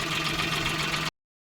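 A Maruti Alto 800 hatchback, modified and fitted with a new battery, a new radiator and freshly rebuilt engine work, idles with a steady, even hum before it stops suddenly into silence.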